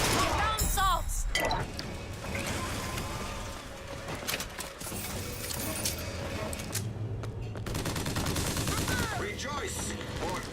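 Rapid gunfire and machine-gun bursts in Bioshock Infinite on 1999 Mode crackle loudly through a chaotic fight, with metallic clinks scattered between shots and voices calling out over the din.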